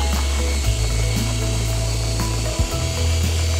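A drill spinning an internal mixer in a container of Trilex EverGol Pulse seed treatment at low speed, making a steady, loud motor whine that dips briefly in pitch and then settles again, with no speech.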